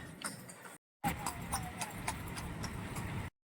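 A horse pulling a kalesa carriage among tourists clip-clops at a steady walking rhythm, close and fairly quiet, with a short dropout partway through.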